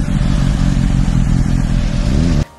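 A motorcycle climbs uphill on the Mayon Skyline road with a loud, close, steady engine drone and rattling clatter, the pitch rising slightly before the sound cuts off abruptly.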